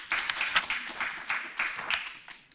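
Small audience at a teacher certification training session clapping for a presenter, a short burst of uneven hand claps that swells and fades within a few seconds.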